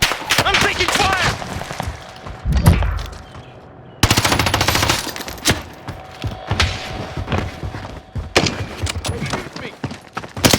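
Rapid bursts of automatic gunfire and single shots from Call of Duty Warzone Vanguard on Rebirth Island, loud and near, with heavy thuds and several sharp breaks in the firing, while voices call out over the shooting.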